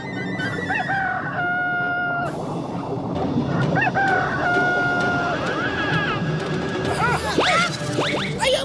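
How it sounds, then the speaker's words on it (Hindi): A cartoon sea rooster crows repeatedly in a long, drawn-out series of wavering, sing-song calls over a busy animated underwater soundscape, loud and close. "इसकी आवाज से समंदर के सारे प्राणी सुबह जागते हैं। नए नए आए हो क्या? पतलू, सुना तुमने? वो देखो सी मुर्गा"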